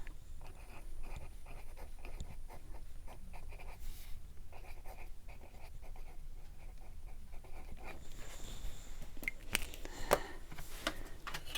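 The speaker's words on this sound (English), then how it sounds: "And then write it down." A pen scratches out a watercolor paint name during palette setup, soft close scribbling strokes in short repeated bursts, followed by a few light taps and clicks.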